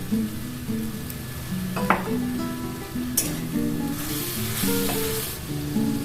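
Onion and garlic paste frying in a pan makes a continuous close sizzle with intermittent stirring clinks and scrapes. There is no speech.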